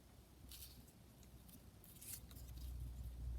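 Scissors trim around the edge of a piece of paper in a few quiet, crisp snips, close and faint, over low background rumble.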